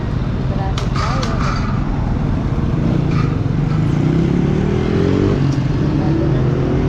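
Cars and motorcycles in road traffic make a steady, close engine rumble that stays loud and continuous, with a slow rising drone from one passing vehicle.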